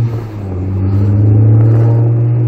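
A Ford Focus ST engine hums low and steady from inside the car during a test drive, then swells into a rising, throaty drone as it accelerates, loud and close with no talking.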